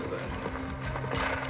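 Horse hooves clop at a steady pace in an Assassin's Creed game trailer shown at the Microsoft E3 2017 conference, set against a low droning score and ambient bed, with faint talk mixed in.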